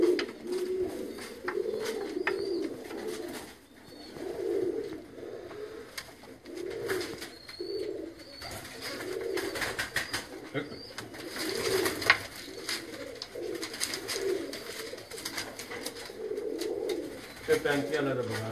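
Pigeons coo in repeated rhythmic bursts throughout, steady and fairly close, with someone talking over them in Urdu or Hindi about pigeon keeping.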